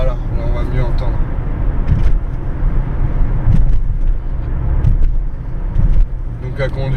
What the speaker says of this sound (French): Et après le moteur, le bruit, ça c'est complètement dingue.